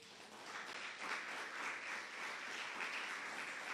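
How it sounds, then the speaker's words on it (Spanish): A church congregation applauding during a Sunday service, sustained dense clapping from many hands, fairly distant and even in level, with no voices on top. "Dele un fuerte aplauso al Señor."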